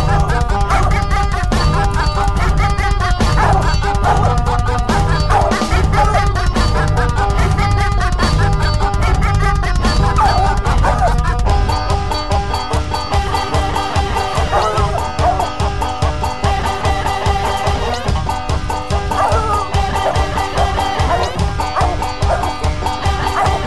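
A hunting dog bays repeatedly on a coon hunt in a Tennessee hollow, its yips and barks riding over a dense, loud musical backing throughout.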